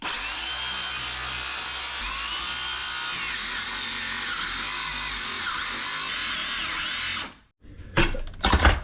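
A battery circular saw plunge-cuts into rotten wooden cabinside on a wooden boat, its loud, steady high whine running unbroken for about seven seconds before cutting off, followed by a few short clattering knocks.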